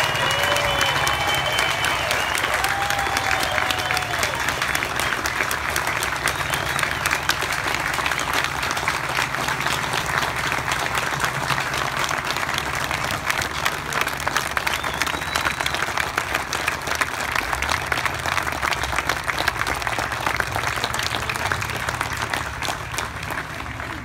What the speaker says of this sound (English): And your biggest round of applause, ladies and gentlemen, for our World War II veterans on stage and in the audience today.